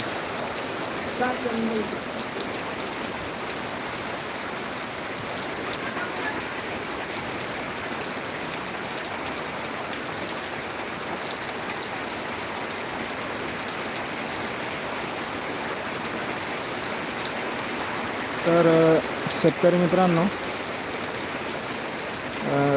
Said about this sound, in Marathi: सध्या तर एक नंबर पाऊस पडला आणि चालू आहे